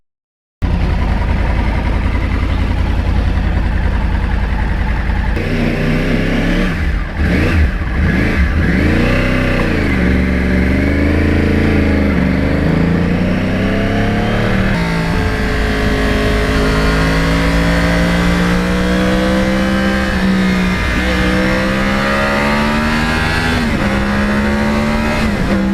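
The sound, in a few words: Yamaha R1 crossplane 2009 motorcycle engine revving and riding off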